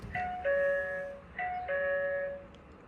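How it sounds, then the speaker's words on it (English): A video doorbell chime rings twice in a row, each time a clear two-tone electronic ding-dong with a short lingering tail, quiet and close. "You can also customize the sound of the chime."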